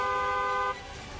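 A car horn honks once in a loud, steady blare of about three-quarters of a second, then cuts off, leaving only low background noise.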